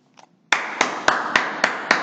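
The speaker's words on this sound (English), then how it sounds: "Give them a round of applause, class." Schoolroom class applauding a group of classmates: six sharp, evenly spaced claps struck together in a steady rhythm, close and loud, after a brief faint sound.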